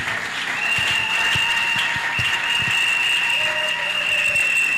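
An audience at an academic graduation ceremony applauds steadily, dense clapping and cheers with a few whistles, loud and continuous throughout.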